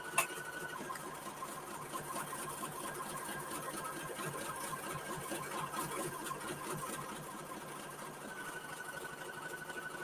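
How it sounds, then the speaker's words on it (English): A home sewing machine running a triple stitch, its needle whirring in a fast, even mechanical rhythm that holds steady at close range, fairly quiet, with no voices. "this will just take about 1 minute to stitch around. And it is doing a triple stitch."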